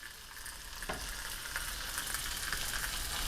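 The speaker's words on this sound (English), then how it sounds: "Ooh, we got a sizzle." Chicken pieces sizzle skin side down in a hot tagine for a Moroccan lemon chicken, a steady close frying hiss with faint stirring scrapes and no talk.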